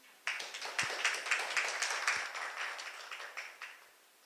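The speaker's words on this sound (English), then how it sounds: "Please give a big applause for her talk." A conference audience applauds a plenary speaker after her introduction. The clapping is soft and somewhat distant, with distinct scattered hand claps that build quickly, continue for about three seconds and then taper off, and nobody speaks.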